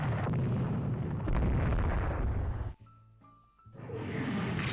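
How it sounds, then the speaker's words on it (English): Torpedo strike exploding against a warship in the naval strategy game Rule The Waves 3, a loud rumbling blast sustained for nearly three seconds, a brief lull with faint tones, then renewed roaring battle noise. "We hit one of them with a torpedo."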